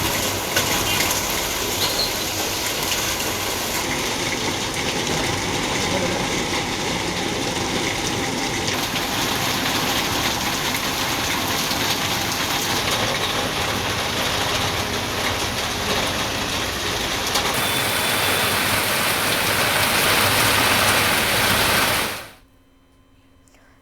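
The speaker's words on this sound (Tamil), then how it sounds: "திருப்பத்தூர் உள்ளிட்ட பகுதிகளில் கனமழை பெய்தது" Heavy monsoon-style rain pours down with gushing water. The roar is dense and steady for over twenty seconds, then it cuts off abruptly near the end.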